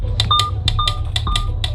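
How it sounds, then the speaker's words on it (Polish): A Lamborghini's drive mode selector gives a series of short, bright electronic beeps and clicks, about eight quick chirps in a steady rhythm over a low, constant engine rumble, close and clear. "To jest dźwięk, który towarzyszy kliknięciu zmiany trybu jazdy"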